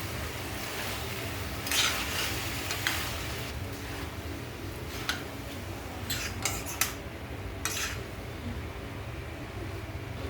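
Homemade hakka noodles are stirred and fried in a pan, with a steady close sizzle and occasional sharp utensil clinks and scrapes against the pan, no talking.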